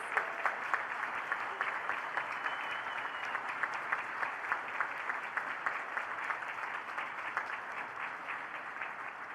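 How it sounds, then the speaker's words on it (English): Hall-filling applause from an assembly audience for the event staff, a steady, moderately distant patter of many hands clapping that holds for several seconds before easing slightly. "Let's give these amazing people a round of applause."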